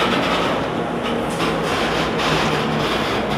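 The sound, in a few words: airport train passing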